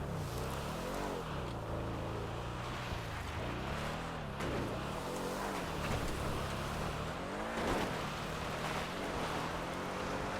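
A car in Grand Theft Auto V driving off-road over rough terrain, its engine revving and falling in waves with tires churning dirt, a continuous close rumble throughout.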